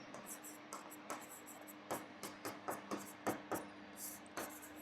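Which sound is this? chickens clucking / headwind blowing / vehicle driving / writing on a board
writing on a board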